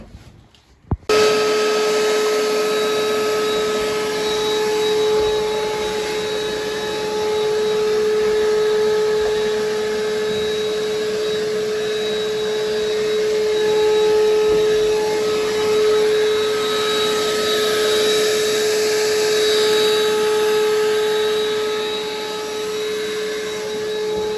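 A vacuum cleaner runs steadily with a loud, close, droning whine, sucking debris out of the ceiling of a Dodge Dart under restoration, continuous for over twenty seconds with no talk.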